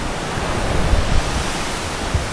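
Bisibis Falls in Mauban, Quezon pours as a steady broadband rush of falling water, even and fairly loud, with a few low thumps mixed in and no voices.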